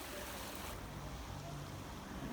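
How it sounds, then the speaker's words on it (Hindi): Mountain stream water from Kashmir flowing through hilly country at Kotli Sattian, a faint, continuous rushing wash with no voices over it. "ये कश्मीर का पानी आ रहा है"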